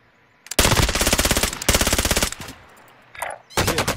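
Automatic gunfire in Call of Duty: Warzone rattles in loud, close bursts, two long rapid volleys followed by a shorter one, with brief pauses and a fainter shot between.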